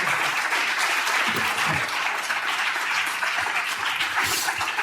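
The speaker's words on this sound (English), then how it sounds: "Give a rousing applause for the 6 people that poured their hearts out" A sustained, dense roar of audience applause at a medical grand rounds lecture, steady and loud throughout with no gaps.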